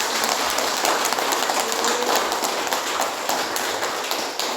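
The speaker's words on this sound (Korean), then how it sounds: "우리 권사님 더 건강하시고 더 많이 행복하시라고 좀 박수 한번 좀 보내주세요" A Korean church congregation at Sunday worship claps for an elderly deaconess: a dense, steady wash of many hands applauding for several seconds, loud and close, with no voices standing out.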